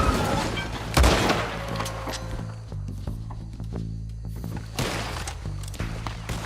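Gunshots in Red Dead Redemption 2, loud and close, with a heavy blast followed by scattered cracks and booming shots over a busy background of game sound and movement.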